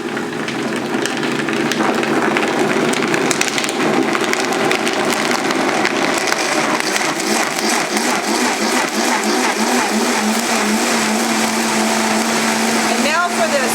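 Blender whirring through a kale green smoothie, a loud, steady motor roar with churning, gritty texture as the speed gradually ramps up, continuous across the whole stretch.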